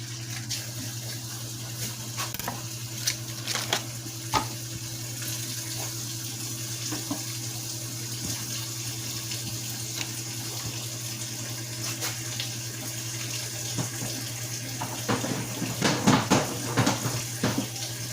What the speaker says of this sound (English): I'm just washing my cabbage now.